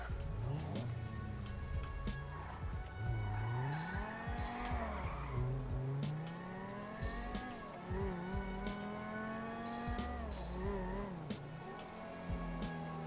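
A modded add-on car in GTA 5 drives around a Chicago-style city map. Its engine climbs and drops in pitch as the car works through gears, and its tires squeal and skid through turns. The sound is steady and fairly quiet.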